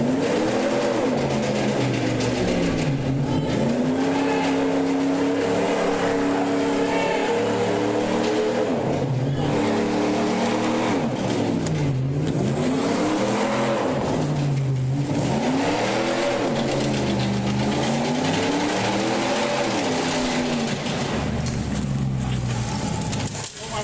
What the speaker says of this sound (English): I don't think that's him just rev bombing his fucking pickup truck